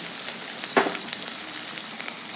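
Chopped onion, tomato and green chilli hiss steadily as they fry in hot oil, a constant close sizzle with a brief louder burst near the start as they hit the pan.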